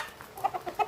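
Chickens on a small home poultry farm, including young birds nearing adulthood, give short soft clucks, about four brief calls in quick succession, close by and alone without talk.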